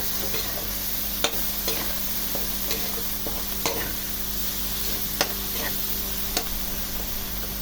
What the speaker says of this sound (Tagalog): Hayaan lang natin na medyo magisa pa ang ating shrimp paste or alamang